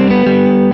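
Electric guitar lick through heavy distortion effects, a short sustained bright chord held loud and steady for under a second before cutting off abruptly.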